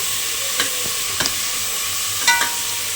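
Mint leaves sauté in hot oil for a mushroom biryani, a constant close sizzle with a few sharp scrapes of a spoon against the pan.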